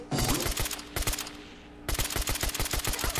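Rapid bursts of assault rifle fire from a modded Fallout 4 on Xbox, loud and close, with sharp repeated shots broken by a short lull before another sustained volley.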